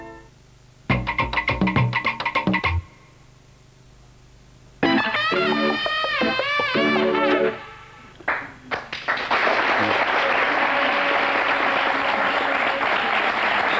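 Public applause for a royal fairy-tale wedding in a 1998 Belgian TV promo, arriving after stretches of music and effects and building into a loud, sustained burst of clapping over the last several seconds.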